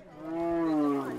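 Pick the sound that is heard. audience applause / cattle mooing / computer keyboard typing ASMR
cattle mooing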